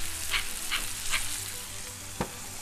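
A steak searing in a hot pan gives a loud, close, continuous sizzle with a few brief spits and one sharp knock near the end. No one speaks.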